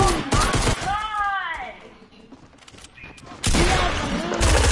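Gunfire in the Fortnite video game: dense bursts of rapid shots open and close the stretch, with quieter game sounds and a voice in between.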